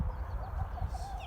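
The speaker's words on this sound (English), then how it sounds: "All of these chickens here, not all of them are hens" Chickens, a mix of hens and roosters, cluck softly and continuously on a working farm, a low murmuring flock sound heard close with no talking.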